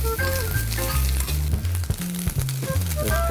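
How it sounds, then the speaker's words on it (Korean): Fennel and seaweed stems stir-fry in a hot pan, a steady sizzle with scraping stir strokes, heard close and loud alongside low, sustained background music. "페넬이 어느 정도 익으면요, 미역 줄기를 넣고 같이 볶아주세요"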